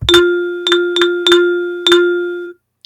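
Rhythm playback tones from an online rhythm-training tool ring out as five bright metallic dings in an uneven pattern, each note sustained and decaying before the sequence stops.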